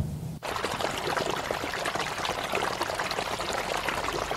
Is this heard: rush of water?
yes